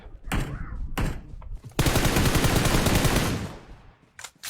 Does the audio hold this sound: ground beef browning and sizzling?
no